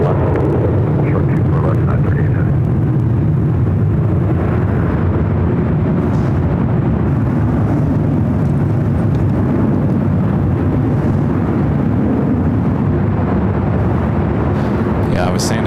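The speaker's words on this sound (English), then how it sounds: "767, this time a 400 series, 400 ER. Number 2 for takeoff on the 24 left." A Boeing 767-400ER jet taking off on runway 24 Left at LAX, a steady broad roar of jet engines holding loud and continuous throughout, with voices talking over it.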